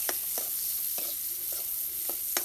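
Curry for a fish and spinach dish being stirred in an oiled pan, a soft steady sizzle with a series of light, evenly spaced scraping strokes close by.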